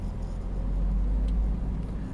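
Rush hour traffic crawls along a Los Angeles street in the Crenshaw area, a constant low rumble of car engines and road noise that holds steady throughout, with no speech.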